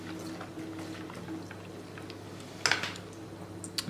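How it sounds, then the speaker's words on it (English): Water trickles through a siphon tube made from an IV line draining from a reservoir, faint soft dripping and gurgling with a low steady hum behind it, a few sharper splashes near the end. "As you can see here, the water siphon is now started."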